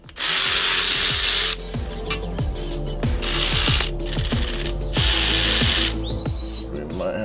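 A ratchet with a T55 bit works a brake caliper bolt on a Mazdaspeed3, giving rapid, close metallic clicking in repeated bursts with short pauses between strokes.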